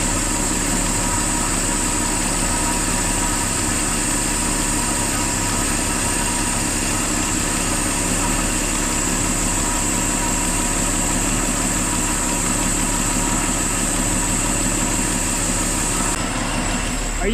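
A 1978 Mercury Z-7 engine idles steadily and close by for the whole stretch, a constant low rumble with a bright, even drone above it and no speech over it.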